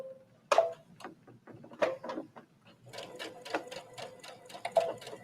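Brother sewing machine sewing a seam in short bursts of rapid ticking stitches with pauses, close but fairly quiet, ending in a longer steady run.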